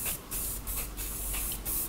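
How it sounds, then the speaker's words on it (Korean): Hair spray misted over an elderly man's short, white-and-black hair during a haircut, heard as several short, sharp hissing bursts in quick succession, close and fairly loud. "이렇게 스프레이 한번 뿌려서"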